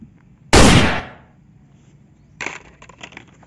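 A toy pistol sound effect fires one loud, sharp bang that decays over about half a second, followed later by a softer burst of rattling clicks.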